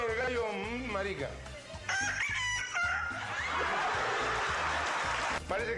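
A man imitates a rooster crowing on a variety show stage, with several rising and falling cock-a-doodle-doo calls and clucks, followed by broad crowd noise and laughter under a steady low background beat.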